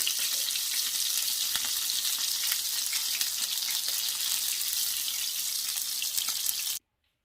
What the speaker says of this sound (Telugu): కొంచెం మగ్గే వరకు ఆయిల్లో డీప్ ఫ్రై చేసుకోవాలండి